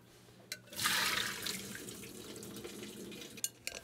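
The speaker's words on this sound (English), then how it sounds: "it says to steep the macaroni in water for 1 hour, which I've done, and now I need to drain it" Soaking water poured off macaroni that has steeped for an hour, a soft, continuous splashing and trickling of water into a sink, with a brief louder gush near the start and faint clinks.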